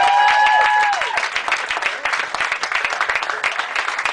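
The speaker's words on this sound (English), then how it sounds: "A round of applause, please, for our panel, everyone." An audience at a community political forum claps for a debate panel, a sustained round of applause from a crowd after a brief voice at the start, fairly loud and close, thinning slightly toward the end.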